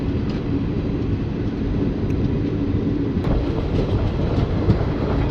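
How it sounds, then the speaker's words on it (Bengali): A train pulling out of Katwa station on a Malda–Howrah Intercity Express run, with a steady loud rumble of wheels on rails and faint rhythmic clatter throughout, heard from on board with no talk. "ফাইনালি কাটোয়া স্টেশন থেকে ট্রেন বেরিয়ে যাচ্ছে"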